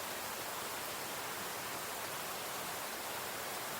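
River waterfall rushing far below a mountain bike trail in Afan Forest, Wales, a steady broadband roar, faint and distant, with no other sounds over it.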